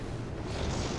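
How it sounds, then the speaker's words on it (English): A flashbang blast in the video game Final Fantasy XIV, heard as a loud, dense roar of noise that fills the whole second without letting up. "Flashbang!"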